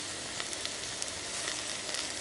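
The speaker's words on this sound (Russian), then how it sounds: "Ну, сами знаете, как жарить баклажаны." Eggplant slices fry in a generous amount of oil over medium heat, producing a steady, dense sizzle close up with faint crackles and no talk.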